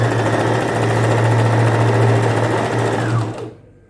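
A sewing machine runs steadily, stitching a folded cloth strip with a loud, continuous motor whir, then winds down and stops near the end.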